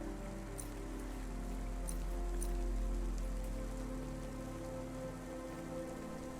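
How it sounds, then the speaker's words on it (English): Steady rain pours outside a restaurant in the video game Cloudpunk, a dense continuous patter with a low rumbling bed and occasional brighter drops, no speech. "Don't let all the rain get you down."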